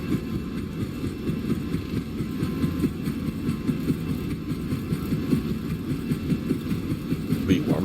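Airliner jet engines spooling at takeoff thrust in a Fenix flight simulator, a steady low rumbling roar with faint throbbing that holds constant throughout, without speech.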